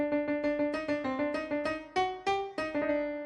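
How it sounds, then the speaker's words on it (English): A quick piano melody of bright, evenly struck notes runs up and down, each note ringing briefly into the next, played alone. "The first time it's played, it's on the piano."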